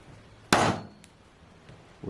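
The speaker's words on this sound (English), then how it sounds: "center punch" One sharp hammer strike drives a center punch to mark drill holes in a telescope flockboard part backed by a small piece of wood, a single close crack that decays quickly, followed by quiet.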